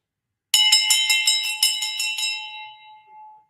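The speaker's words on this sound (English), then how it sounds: "I'm doing my best with these bells." A handbell is rung rapidly about ten times in a bright, metallic series, then left to ring out and fade, loud and close with no talking.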